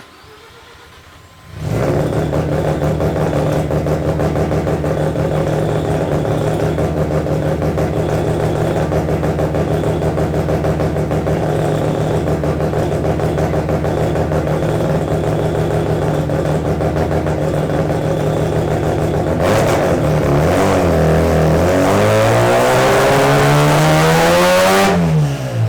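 An all-motor car engine with individual throttle bodies starts after a brief quiet moment, idles steadily and loudly for a long stretch, then revs hard with rising pitch toward 9,000 RPM near the end.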